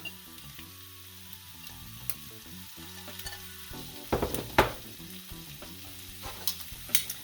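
Beef, green beans and thinly sliced shallots stir-fried in a pan for ginger and black garlic beef: a soft, steady sizzle with scraping stirs, and louder clattering tosses near the middle and at the end.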